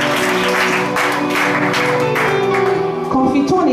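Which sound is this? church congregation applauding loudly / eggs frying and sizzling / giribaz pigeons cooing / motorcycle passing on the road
church congregation applauding loudly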